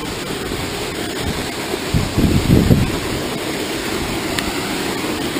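Gnat Creek Falls pours in a dense, constant roar of falling water close by, with a brief gust of wind buffeting in the middle; no voices.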